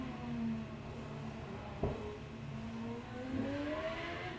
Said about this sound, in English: Car going fine now. I was just listening to make sure car's going okay.